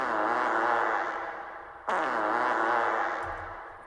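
A single long, buzzy fart-like blare with a reverb effect, then a second one after a sudden restart, both trailing off in a washy echo.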